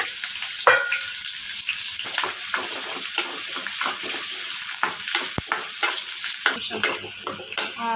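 Onions sizzling steadily in hot oil in a pan while being cooked for bottle gourd dal, a loud continuous hiss broken by scattered scrapes and stirring taps.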